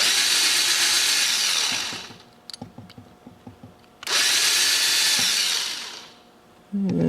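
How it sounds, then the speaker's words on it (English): A power drill whines loudly in two long bursts drilling the head off a rivet on a Hot Wheels toy car, with brief clicks and taps between them, close up. "I'll drill the head off of the rivet"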